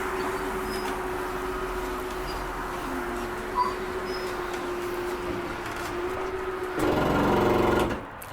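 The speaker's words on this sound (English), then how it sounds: "That's just the slide mechanism resetting itself." A Salem 330BHBS RV's slide-out mechanism resetting: a steady mechanical whirring hum runs continuously, then a louder grinding motor burst kicks in near the end before cutting off.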